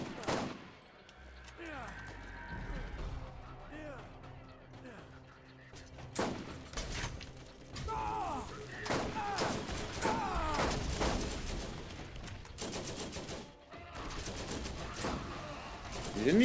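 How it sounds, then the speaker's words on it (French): Rapid sniper rifle fire aimed at turrets in the video game Borderlands, with repeated sharp shots and bursts of in-game gunfire and impacts, while someone talks over the action. "mon sniper tire super vite, c'est pas mal pour les tourelles"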